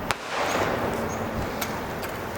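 Firecrackers set off near a river at Athirappilly during the monsoon to drive back a wild tusker elephant, with a sharp crack at the start and another later over steady rushing noise.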